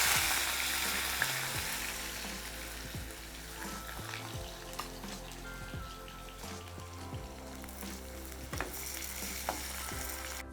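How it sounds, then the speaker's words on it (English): Potatoes frying in oil in a kadhai for a Bengali papad curry: a steady, close sizzle and crackle with occasional stirring scrapes and light knocks, continuous and fairly quiet, with no voices. "I'll continue frying the potatoes."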